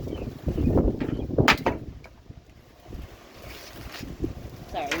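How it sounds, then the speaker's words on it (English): Gusty wind buffets the microphone in low rumbling bursts, with a brief airy rush in the middle and faint background noise. "you can see it's starting to get windy"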